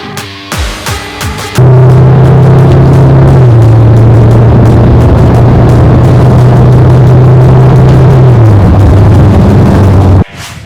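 An Isuzu 2.2 Ddi Max Force diesel pickup engine roars steadily at high revs for several seconds, its pitch dipping slightly before cutting off abruptly.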